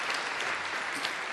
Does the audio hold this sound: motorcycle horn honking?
no